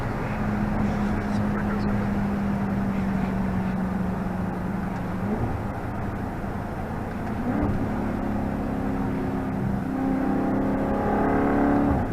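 A Dodge Charger Daytona 392 with a V8 holds a loud, steady street engine drone, then revs higher with rising pitch near the end. Voices can be heard faintly under the engine.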